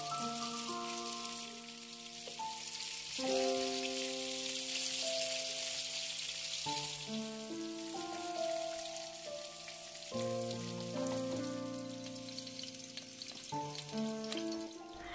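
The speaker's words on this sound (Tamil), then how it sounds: "தேங்காய் எண்ணெயில் கொஞ்சம் கடுகு சீரகம் சேர்த்து பொரிய விடுறேன்." Mustard seeds and cumin sizzle and pop in hot coconut oil to start a beetroot stir-fry, a steady crackling hiss that runs under loud tonal background music.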